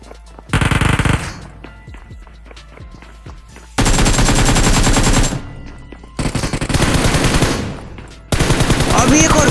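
UMP gunfire in the BGMI video game: loud, rapid automatic bursts, four long volleys with short pauses between, close and dominant.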